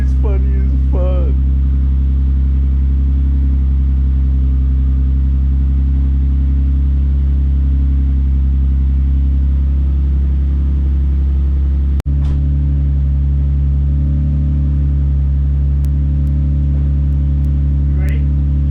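An Infiniti Q50 engine idling with a loud, deep rumble, close and steady, with a brief jolt partway through and then settling back to idle.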